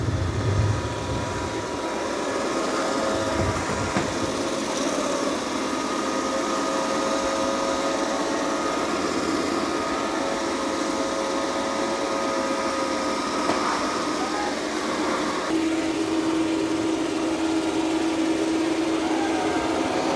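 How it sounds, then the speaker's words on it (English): A Dreame robot vacuum hums steadily and close while mopping and vacuuming at once, a continuous motor whir with a brush and pad swish and a tonal shift near the end. "it's mopping and vacuuming at the same time"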